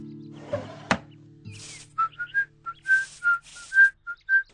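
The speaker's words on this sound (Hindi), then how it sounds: "सीटी बजाते हुए कोई लेटेस्ट फिल्मी गाना थोड़ा सुर में थोड़ा बेसुरा गुनगुनाते हुए" A lone whistler carries a modern Hindi film tune, sometimes in pitch and sometimes off-key, in a radio drama. Clear close phrases and short separate notes follow a brief thump, with no talking.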